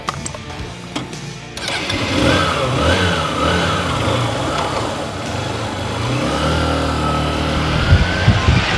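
Honda CB Shine motorcycle engine accelerating, a mid-pitched revving that rises and swells steadily after a brief start, close and loud with no talk over it.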